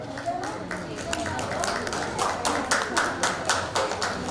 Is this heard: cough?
no